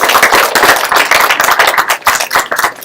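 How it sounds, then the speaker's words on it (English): Dense, steady hand clapping from a live audience at an aquarium nanoscaping event, many pairs of hands blending into continuous applause close up with no voices. "Give them a big round of applause."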